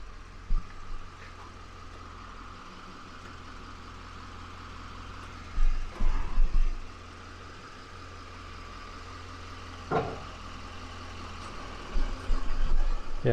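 A pickup truck tows a livestock trailer carrying about 3,200 pounds, its engine rumbling low and steady close by, with occasional rattles and knocks from the rig.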